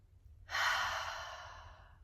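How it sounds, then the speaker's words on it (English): A single soft, breathy exhale through an open mouth, as if fogging up a window during a yoga breathing exercise, starting abruptly and slowly tapering off, quiet and close. "when you breathe out through the mouth, I want you to make a sound as if you're trying to fog up the window"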